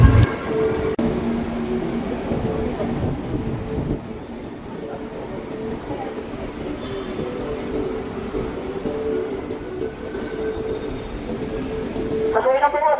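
Metro rail platform at an MRT station: a train's low steady rumble and rolling hum fills the space for the whole stretch, close and continuous, with faint tonal whines and a brief squeal near the end.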